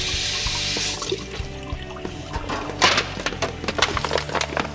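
Tap water runs and splashes while a turkey is rinsed in a kitchen sink, with irregular clunks and knocks of handling over the steady flow.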